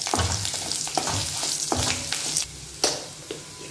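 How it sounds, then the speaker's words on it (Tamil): Garlic cloves with dried red chillies frying in a pan, a steady close sizzle with occasional stirring scrapes and clinks of the spoon. "பொரியணும் நல்லா."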